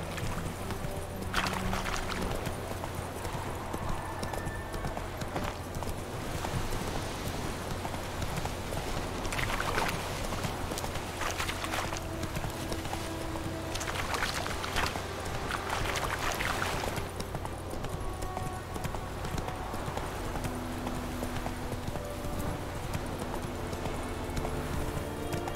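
Horse hoofbeats in The Witcher 3, a steady clip-clop gait running through the whole passage over constant outdoor ambience, with occasional louder bursts of noise and no talk.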